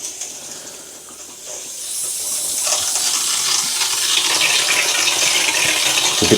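Water rushes from a thermostatic mixer shower valve just after installation, starting as a quieter hiss and swelling into a steady, loud spray with spluttering air as it keeps running.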